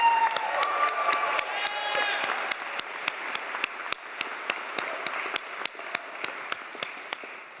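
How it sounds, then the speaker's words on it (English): Applause from a baccalaureate ceremony audience at Colorado College, a steady wash of many hands clapping that fades to scattered individual claps toward the end, with a brief voice and crowd murmur early on. "Let's give another round of applause to Deonta and Max"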